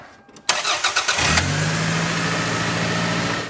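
A car engine cranks with several quick starter pulses, then catches and settles into a steady idle, with a drive belt freshly tensioned by an adjusting bolt; close and loud throughout, no talking.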